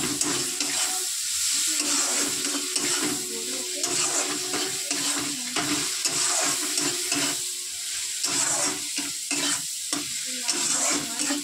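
Chopped tomato goes into a frying mustard fish curry, with a constant loud sizzle and repeated spatula stirring and scraping against the pan close by.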